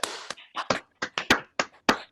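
Scattered clapping and hand taps from a few online meeting participants, uneven, close and fairly sharp, with gaps between the bursts.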